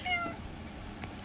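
A white cat gives a short, clear meow up close, a single rising-then-falling call in a quiet indoor room.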